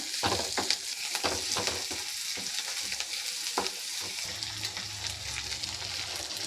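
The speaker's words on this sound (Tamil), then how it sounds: "அதையும் போட்டு வெங்காயத்தை கூட சேர்த்து நல்லா வதக்கிக்கோங்க" Oil sizzles steadily as onions and green chili are sautéed for dry fish thokku, with scraping stir strokes and clatter of a spatula against the pan throughout.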